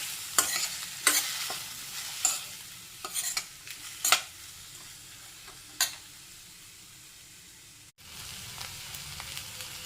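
Sliced onions fry in a pan with a steady sizzle while a utensil stirs them, scraping and clinking in irregular strokes against the pan; no talking.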